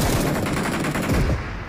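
Loud, rapid automatic gunfire from the battle-royale shooter Peacekeeper Elite rattles in close, continuous bursts.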